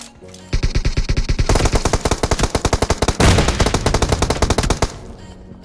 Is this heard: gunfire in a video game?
yes